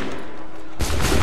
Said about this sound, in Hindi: पब्लिक के ऊपर पूरी गोली चल गई